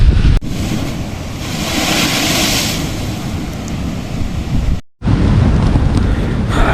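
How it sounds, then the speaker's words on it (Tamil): Sea waves surge into the split rocks around the Hummanaya blowhole at Kudawella, Sri Lanka, making a loud, continuous rushing roar with wind buffeting the microphone, then a brief cut before the crashing water returns. "கடல் அலை வர போல் இந்த பிளவுப்பட்ட மலைகளுக்கு நடுவாக இதாகும் பாருங்கள்."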